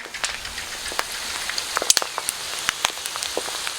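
Hot oil crackles with scattered sharp pops and sizzling snaps, irregular and continuous, as pork cracklings with fat attached fry in a pan, with no speech.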